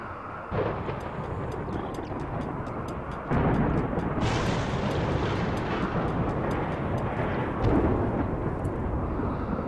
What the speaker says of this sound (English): Now, we have a dry thunderstorm here